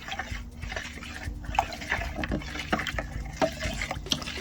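Tannin powder being stirred into a batch of dark mead, giving soft continuous liquid swishing and sloshing with a few light knocks against the vessel, close and steady throughout.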